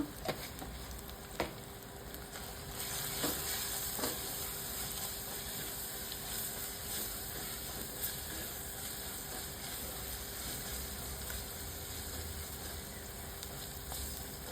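Sliced onions with turmeric frying in a pan for an old-style bommidi fish curry, giving a steady, even sizzle and hiss that runs throughout, with a few faint clicks of stirring.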